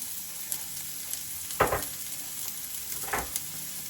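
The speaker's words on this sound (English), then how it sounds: "the ginger is going in, the onion is going in" Ginger and onion hit hot oil in a pan, giving a quiet, steady sizzle with two brief louder bursts of crackling spitting partway through, no talking.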